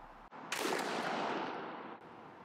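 A 28 gauge shotgun fitted with an Indian Creek choke fires a Foxtrot cherry bomb load of 9.5 shot at a pattern target: one sharp, distant-sounding blast with a long fading tail.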